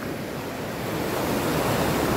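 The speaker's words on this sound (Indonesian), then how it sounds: "Ombak tiba-tiba membesar setelah hujan" Ocean waves surging at Muding beach after rain, a continuous loud roar of surf with heavy wind rumble against the microphone and no voices.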